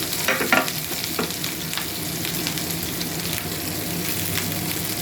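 Chopped ginger and four dried red chilies fry in mustard oil, a loud, continuous close-up sizzle with a few scraping stirs near the start, crackling on steadily to the end.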